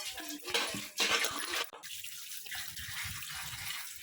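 Tap water runs steadily while fish pieces are rinsed clean in a kitchen, a broad splashing rush with small knocks and clatter, loudest in the first two seconds and then a softer, continuous trickle.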